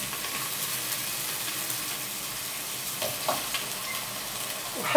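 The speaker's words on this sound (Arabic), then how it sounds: "تاخذ كامل البنه هكذا في التقليه ديالها." Courgettes frying in a pan: a steady, close sizzle and hiss of hot oil that runs unbroken, with a few small pops near the end and no voices.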